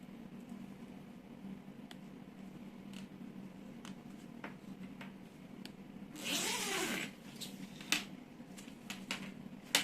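A zipper slider is fitted onto a zipper, giving one rasping zip lasting under a second, followed by a few sharp clicks and handling taps in a quiet room.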